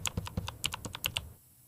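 Close, crisp keystrokes on a computer keyboard as an email is typed, a quick uneven burst of about a dozen taps that stops abruptly.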